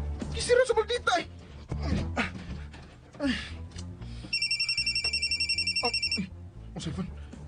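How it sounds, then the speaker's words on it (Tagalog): Cellphone ringing with a repeated electronic trill partway through, preceded by people talking and a dog panting nearby. "Ang cellphone."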